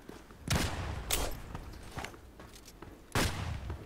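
Glock 18 pistol shots fired in a video game, a few sharp, loud bangs spaced apart with a quieter thump between them.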